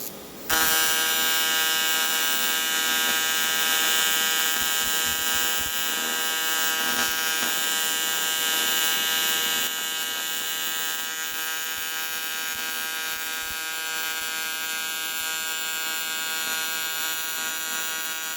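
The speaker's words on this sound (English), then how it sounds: "Lovely weld across there, absolutely lovely" Arc welding of cast aluminium Yamaha R6 engine parts with rods, a steady loud buzzing hiss running continuously after a brief start, dropping slightly partway through.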